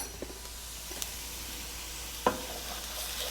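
Garlic sizzles in a pan with a steady, soft, close hiss, marked by a few brief clicks of a utensil and one sharper knock midway. No one speaks.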